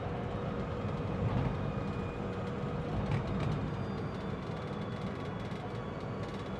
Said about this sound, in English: That's my coffee rattling away, by the way.